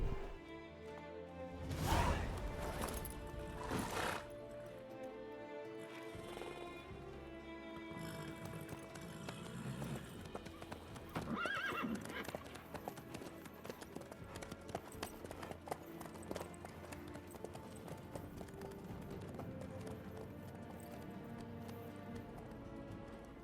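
A horse in The Witcher 3 video game gallops with rapid, continuous clip-clop hoofbeats over a busy background of game sounds, with a couple of sharp louder bursts early on and occasional neighs.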